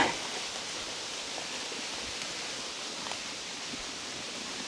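Steady rushing water at the top of Talon Malapad, a tall waterfall in Alfonso, Cavite, where a narrow bamboo-lined river meets the drop; an even, unbroken hiss-like roar fills the whole stretch with no voices.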